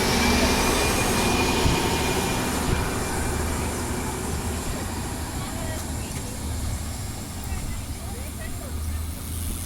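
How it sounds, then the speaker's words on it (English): A TransWA passenger train pulls out of a single-platform station in Western Australia, a continuous loud rumble that slowly eases as the train moves off. "We'll watch the train depart."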